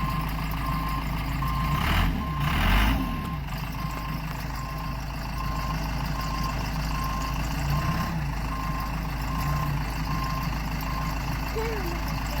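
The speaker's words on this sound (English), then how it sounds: "Daddy's starting up the backhoe." A CASE 580 Super L backhoe idles with a low diesel rumble while evenly spaced reversing beeps repeat steadily through the clip, and a brief louder clatter comes near the start.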